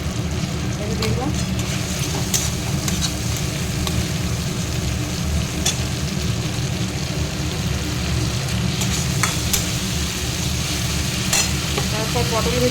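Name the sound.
tomato, green chili and onion paste frying and stirred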